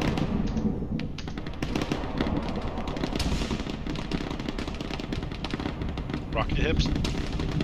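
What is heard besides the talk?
friendly artillery fire in a video game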